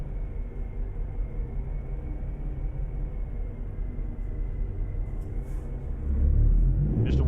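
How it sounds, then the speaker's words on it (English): A truck engine in American Truck Simulator drones in a steady low rumble that swells louder near the end, with no voices over it. "I love that truck sound"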